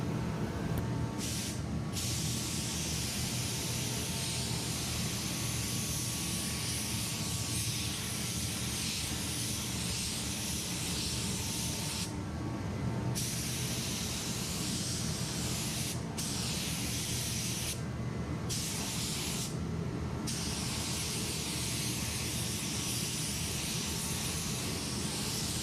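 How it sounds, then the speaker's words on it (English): Steady, loud hiss of a spray gun applying a flow coat on a Ford truck body repair runs continuously, with brief dips and gaps where the spray cuts off momentarily. "Let it cure a little bit longer and then spray your flow coat."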